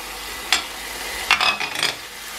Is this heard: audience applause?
no